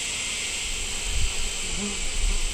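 Honeybees buzz steadily inside an open hive box with good foundation, a dense continuous drone filling the air at close range, with faint low handling bumps underneath.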